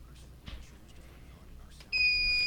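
A quiz show's answer buzzer during a radio academic challenge between high schools sounds a sudden, sustained electronic tone after a stretch of quiet room murmur.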